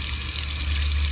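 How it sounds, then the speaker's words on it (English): Water steadily filling a garden fountain bird bath outdoors, a continuous close rushing wash with no talking. "So I am filling up the fountain or the bird bath"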